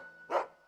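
A single dog bark in Final Fantasy XVI, one short, clear yap standing alone over a faint steady background tone.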